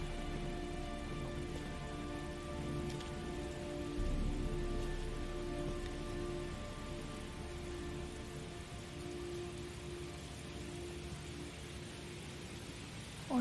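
Steady rain falls in the video game Heavy Rain, a soft, even hiss of drops on surfaces that carries on throughout at low volume with no talk.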